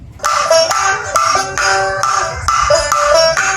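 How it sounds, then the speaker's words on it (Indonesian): Karo traditional gendang drumming in a fast, steady rhythm of repeated bright tonal strikes, loud and close, with no talking. "Gendang seperti ini."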